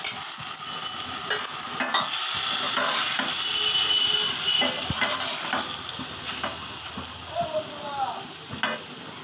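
Pre-fried eggplant pieces go into a pan with green chillies and ginger and sizzle steadily up close, with stirring scrapes and light utensil clinks throughout and a voice talking now and then.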